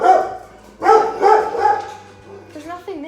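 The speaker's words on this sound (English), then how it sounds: "Oh no, there's a dog. The dog's out there. Okay, I understand. Keep barking." A dog barks outside in a run of loud, close yips and barks, a short burst at the start and then three strong barks in quick succession, with some whining tones near the end.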